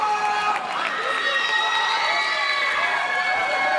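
Capacity crowd at a professional wrestling main event in Clear Lake City, Texas, cheering and shouting in a steady, dense roar with whistles and raised voices throughout, no single voice standing out.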